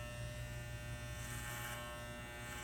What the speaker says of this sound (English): You don't have to be heavy-handed with the clippers.